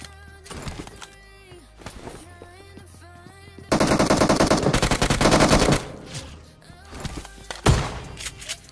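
UMP submachine gun fire in PUBG Mobile: several short bursts of rapid shots, with one loud, sustained volley in the middle. Game music and effects run throughout.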